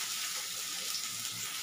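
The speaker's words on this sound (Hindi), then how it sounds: "मेरा ऑयल गर्म हो चुका है, मैं 2 प्याज कट के इसमें फ्राई कर दूँगी" Two chopped onions frying in hot oil in a home kitchen while a rajma curry is cooked, giving a steady, even sizzle of hiss and crackle, moderately loud and close with no talk over it.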